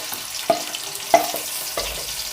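Sliced onion in hot oil in a kadhai, a soft steady sizzle with a few sharp clinks and stirring knocks at intervals, fairly quiet and close.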